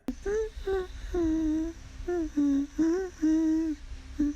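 A lone, untreated sung vocal melody with no effects: short sustained notes with pitch wobbles and gaps between phrases, dry and close, with a faint hiss in the background.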